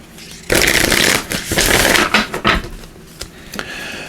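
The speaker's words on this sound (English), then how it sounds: "Let's give these a couple shuffles here" Riffle-shuffling of an oracle card deck by hand, close up: a loud burst of fluttering cards, then a few shorter shuffles and taps that trail off into quiet, with no one speaking.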